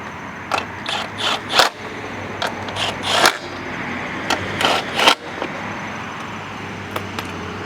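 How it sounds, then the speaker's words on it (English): Socket wrench checking bolts on a 2023 Craftsman M110 lawn mower, a few short ratcheting clicks and metallic scrapes in scattered bursts, close against a low steady background hum, with no talking. "Now I'm just taking my socket or my tool and I'm just confirming that they're in there."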